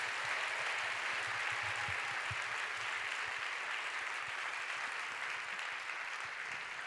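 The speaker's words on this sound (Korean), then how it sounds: "다시 한번 큰 박수 보내드리죠." A large audience at a church youth healing gathering gives sustained applause, dense steady clapping that fills the room for several seconds without pause and slowly tapers slightly.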